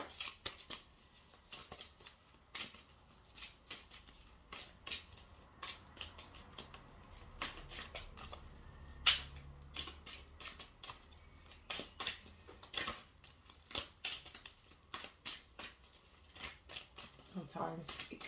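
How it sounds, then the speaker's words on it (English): A deck of crystal cards being shuffled, quiet crisp riffles and flicks in irregular bursts, close and faint, with occasional soft talking in between. "Sometimes it can take really long to do these shuffling, but it happens."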